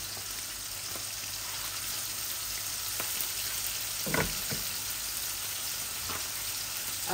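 Leafy greens go into a hot pan for a hilsa fish curry, making a steady even sizzle with a few soft pops and one brief louder crackle near the middle.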